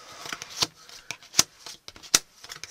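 Playing card slid back into the deck during a card trick: soft papery rustling with three distinct sharp card snaps spaced evenly, close and fairly quiet.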